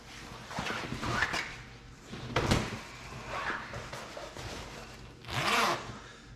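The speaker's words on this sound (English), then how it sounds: "heavy duty zipper" A heavy-duty zipper with large teeth on a Whitby soft top for an FFR MkIV roadster is pulled open in several rasping strokes, close up, with light handling noises between pulls.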